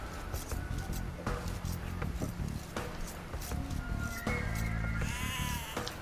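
Sheep in Age of Empires II bleat in short, repeated cries over a busy stream of game clicks and unit sounds.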